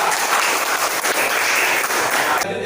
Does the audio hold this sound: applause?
yes